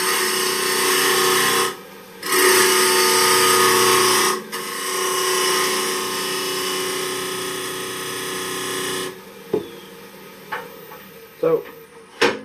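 A wood lathe spins up while turning threads with an EZ Threading Jig, a loud steady high whine that drops out briefly twice, then cuts off around nine seconds, leaving quiet clicks and light handling noises.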